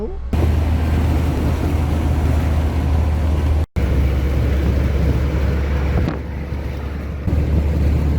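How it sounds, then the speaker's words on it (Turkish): Strong wind roars into the microphone in a loud, constant low rumble, cutting out briefly once, with a faint voice underneath. "Çok fazla rüzgar var"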